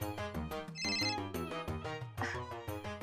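A mobile phone rings with a repeating melodic ringtone, loud and close, playing steadily through the whole stretch with no talking over it, in a domestic scene from a Marathi TV serial.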